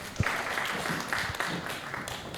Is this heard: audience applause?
yes